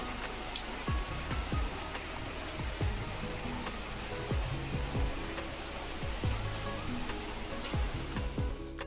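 Steady rain falls outside a window on a Sunday, an even wash of patter and drip with no voices.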